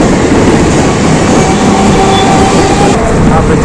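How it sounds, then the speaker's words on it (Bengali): A through train passing close by, loud and continuous, with a heavy roar and clattering wheels that stay constant for the whole span. "ট্রেন আসছে কিন্তু, কাকা সরে যাও"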